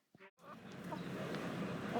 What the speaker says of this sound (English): Hey, gorgeous chickens.